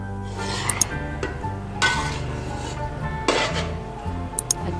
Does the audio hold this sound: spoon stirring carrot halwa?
yes